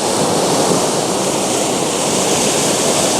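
A torch dumped into fast-moving water, with loud, steady rushing surf-like water noise filling the whole stretch, close and unbroken, no voices.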